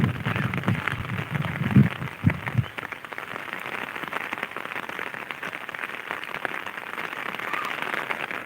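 Heavy rain on a farm, a constant dense hiss of falling water that stays steady throughout, with a few louder patters early on.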